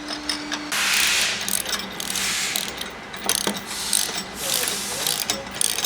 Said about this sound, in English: We're gonna need a 17mm socket for this, and I'm just using an adjustable wrench on the other end for these flats